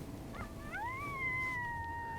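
A lone coyote's howl swoops upward and then holds a long, falling note, faint and far off against quiet outdoor air, in Colorado during late-season coyote hunting.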